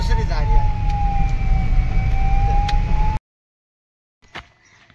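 A vehicle siren sounds as a steady, loud, slightly falling wail over road rumble for about three seconds, then cuts off abruptly, followed by near silence and a brief faint noise.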